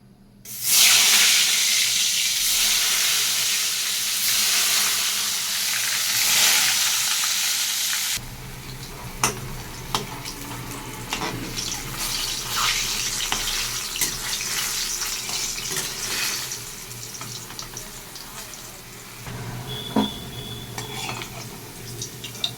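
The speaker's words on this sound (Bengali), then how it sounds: "বেগুনটাকে ভেজে নেবো আগে।" Eggplant frying in oil in a pan, a loud steady sizzle that drops to a quieter crackling hiss partway through, with occasional clinks and stirring.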